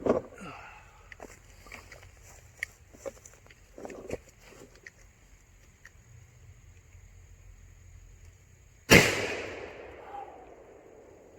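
Single loud shotgun blast from a Fed Arm FX4 firing a 3-inch high-brass number 1 shot shell, erupting after a stretch of quiet outdoor rustling and ringing out with a decaying tail.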